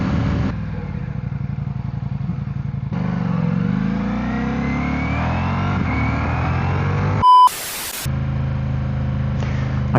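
A 2025 Ducati XDiavel motorcycle engine revs hard and close, its pitch climbing under load for several seconds, then cutting off briefly before a lower, steady rumble returns.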